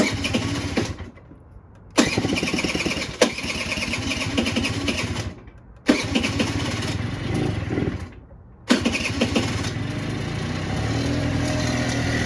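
A Honda Elite SE 50 scooter, left sitting for a couple of months, cranks and catches repeatedly, with several loud start attempts broken by brief silences before the small engine keeps running steadily.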